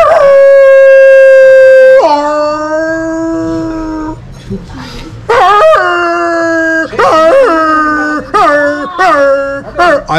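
A man vocally imitates a Kangal dog, sliding from a long mournful howl into a run of barks and yelps, loud and close with no other sounds around.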